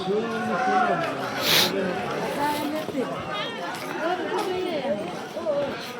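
Crowd chatter at Adamapur temple during aarti, a steady hubbub of many overlapping voices close by, with louder individual voices rising out of the babble throughout.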